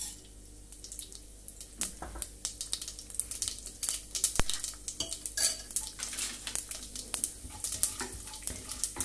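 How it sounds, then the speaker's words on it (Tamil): Mustard seeds, urad dal and chana dal going into a hot pan on the stove for Bombay chutney, heard as a string of sharp clinks, taps and light crackles over a soft hiss, nearby and with no voices. "இதுல வந்து கடுகு உளுத்தம்பருப்பு கொல்லப்பருப்பு போடணும்"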